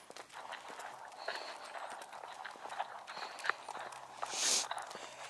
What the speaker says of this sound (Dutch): Jullie horen Roderick lopen